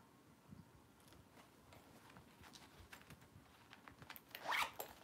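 A zipper on a thrifted handbag is pulled open, a short bright rasp near the end that rises above quiet rustling and handling of the bag, with no talk.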